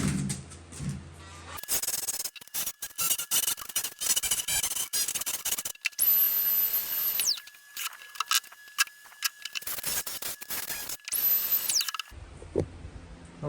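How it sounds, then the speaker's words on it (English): An air hammer with a wide bit scraping the top of a stone window seat, rapid rattling bursts that start and stop repeatedly, loud and close, with a high whine in the pauses. "So I'm just going to use this air hammer and just kind of use the bit here, this really wide bit, to scrape off the tops"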